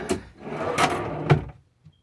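A cabinet drawer is pulled and slid, giving a few wooden scraping and rolling strokes that end in a soft thud. It is close and clear, with a quiet pause after.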